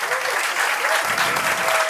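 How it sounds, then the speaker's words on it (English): An audience applauds Gabrielle after a physics demonstration at a science event in the Netherlands, a dense, steady burst of clapping filling the hall for the whole stretch. "So, big applause for Gabrielle."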